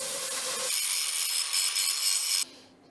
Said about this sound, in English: I'm doing a bevel cut and a cope at the same time with the cutting torch, and then a light little grind.